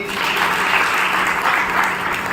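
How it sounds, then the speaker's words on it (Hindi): A hall audience at a health talk claps loudly and continuously, a dense sustained round of applause with no pauses, filling the room on its own without speech. "एक बार तालियां बजाइए।"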